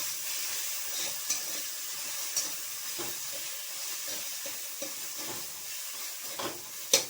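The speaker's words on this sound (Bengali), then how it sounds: "এরপর ভাজতে ভাজতে সামান্য একটু আমি চিনি দিলাম, সামান্য একটু দিয়ে এই শাকটা ভালো করে ভাজতে হবে।" Leafy greens with peanuts are stir-fried in a pan, giving a steady frying sizzle with scattered scraping clicks of a spatula, close and moderately quiet, with no one speaking.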